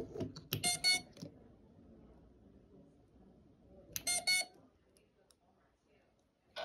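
An iFlight XING2 2306 motor on an FPV quad, shorted out, gives two short harsh buzzing bursts with thin beeping tones, close by, separated by a few seconds of quiet.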